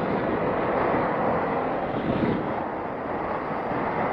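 Strong wind roars against the microphone while riding a CFmoto 300SR motorcycle along the Carmona-Silang Diversion Road, producing a loud, continuous broadband rush throughout with no voices.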